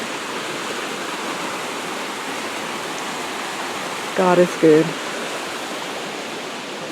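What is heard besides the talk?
floodwater rushing after a storm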